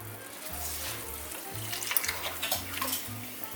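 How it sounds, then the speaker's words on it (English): Two cups of milk pouring into a flour-and-butter mixture in a home kitchen, a steady, close liquid splash and trickle running throughout with no talking. "Next, we're adding 2 cups of milk."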